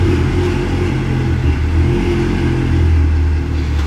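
Chevrolet Corvette C8 engine idling and revving as the car is driven onto a lift in a garage, a loud, close, steady deep rumble with small swells in throttle and no voices.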